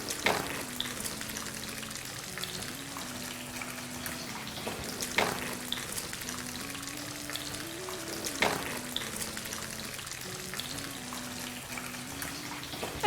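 Fish balls dipped in egg fry in hot oil, a steady close sizzle and bubbling that runs the whole time, broken by a few sharper clinks and spatters, with soft background music.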